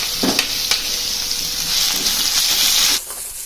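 Dry chillies and onion fry in a little oil in a pan, giving a steady close sizzle and hiss with a few stirring knocks, stopping abruptly near the end.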